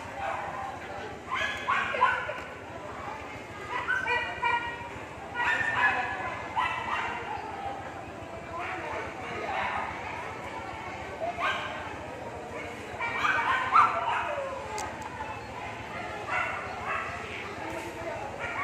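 Several dogs bark and yip on and off in a busy veterinary clinic during vaccinations, with people talking throughout and occasional whimpering between the barks.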